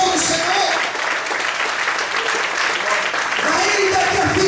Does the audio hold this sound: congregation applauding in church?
yes